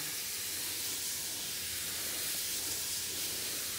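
A garden sprayer mists beans in a vegetable plot, giving a steady, continuous hiss at even loudness for the whole span, with no pauses and no voices.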